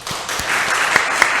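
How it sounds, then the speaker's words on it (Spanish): Audience applause welcomes a lecturer at a conference, a brief burst of steady clapping from a room of listeners with a few sharper claps standing out. "así que lo recibimos con un fuerte aplauso."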